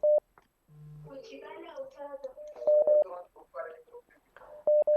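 Telephone line tones sound as a caller is put through to a live Ramadan quiz broadcast: short steady beeps at the start and end, with voices speaking between them.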